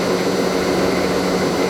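A Mori Seiki MV653-50 vertical machining center with its spindle spinning at 1,000 RPM gives off a steady, continuous mechanical whir and hum with broadband noise and no breaks.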